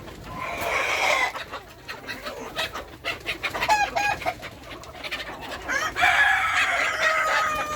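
Sonali breed chickens cluck and chatter close by in a busy coop, with overlapping calls and a few sharper squawks throughout.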